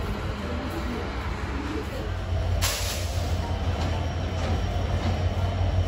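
Passenger train, the Rupsha Express in Bangladesh, running on rails, heard from on board as a steady low rumble with a faint high whine, a brief rattle partway through and no talking.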